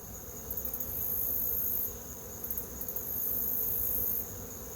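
Honey bees buzz in an opened beehive as frames are inspected while two colonies are being combined. The hum is steady and close, with slight swells, and no one speaks.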